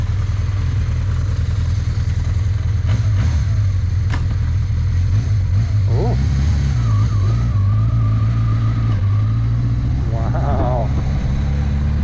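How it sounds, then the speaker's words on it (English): A 1982 Honda CB650 motorcycle engine runs steadily while ridden, with its pitch rising in a few rev swells; a voice briefly exclaims over the engine. "this is the first time this bike has been ridden in I don't know how many years"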